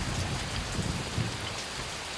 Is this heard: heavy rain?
yes